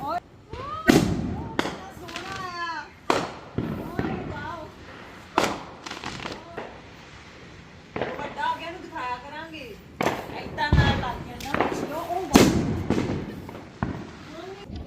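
Sharp Fourth of July firecracker bangs burst at irregular intervals in America, some close and loud, with voices talking throughout.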